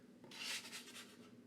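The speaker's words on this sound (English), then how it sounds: "so we'll just pick it up with the bench scraper" A metal bench scraper rubs across a work surface, lifting sticky ciabatta dough in one short, soft scrape that fades into a few lighter strokes, close and quiet.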